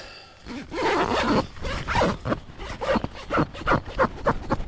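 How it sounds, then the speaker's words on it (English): A zipper on a tent or sleeping bag during solo mountain camping is pulled in a long run of quick rasping strokes, close and fairly loud, with no talk. "gotta love zippers, huh?"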